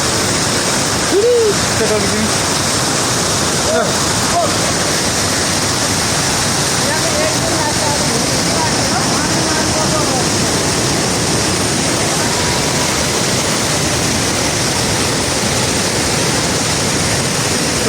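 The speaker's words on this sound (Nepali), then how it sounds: "नाच्ने झर्ना हेर यस्तो राम्रो वाटरफल छ" A loud, continuous roar of a waterfall at Sundarijal, Nepal, fills the whole stretch, steady and close, with a brief voice near the start.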